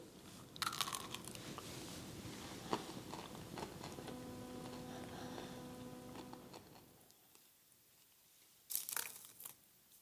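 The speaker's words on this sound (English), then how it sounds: "Yep, they're crunchy." Close, loud crunching bites into a crisp cranberry almond granola bar, followed by steady chewing, then a final burst of crunching near the end.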